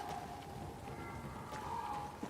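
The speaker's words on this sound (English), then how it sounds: "The rain." Steady rainfall in the Banishers: Ghosts of New Eden video game, a constant hiss of drops falling throughout with faint tonal ambience beneath, no voices.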